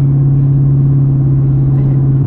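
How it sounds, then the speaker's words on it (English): A 2011 Toyota Tundra V8 with Flowmaster exhaust idling close by, a loud, steady low rumble with a deep even drone and no revving, heard alone. "Listen to the purr of that V8, folks. The new exhaust sounds pretty good, doesn't it?"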